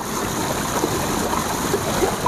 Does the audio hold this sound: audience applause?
no